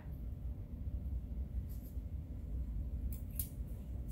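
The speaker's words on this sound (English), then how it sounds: "All I'm going to do is take my scissors and kind of glide up" A couple of faint, crisp snips of kitchen scissors cutting a tendon from raw chicken cut through a steady low rumble near the end.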